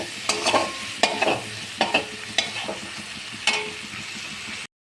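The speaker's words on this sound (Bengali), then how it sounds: "চিংড়ি মাছটাকে দেখে হালকা ভাজা হয়ে গেছে," Shrimp lightly frying in a kadai for a jackfruit and prawn dish, stirred with a spatula: a soft oil sizzle broken by five or six sharp scraping strokes at uneven intervals, then sudden silence at the end.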